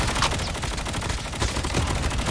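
AK-117 assault rifle fired in a shooter game: rapid, continuous automatic bursts with tightly packed cracks, loud and close, running the whole time with little pause.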